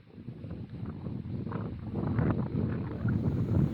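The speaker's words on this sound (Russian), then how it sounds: "Ветрено тут, конечно, как и на любом мысу." Steady, blustery wind roars across the microphone on Cape Putyatin, a low rumbling buffet that slowly grows louder, with no voices.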